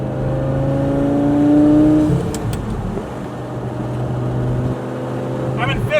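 A Lamborghini engine drones steadily as the car accelerates, its pitch rising in a smooth sweep before easing off into a lower, sustained hum, loud and close throughout.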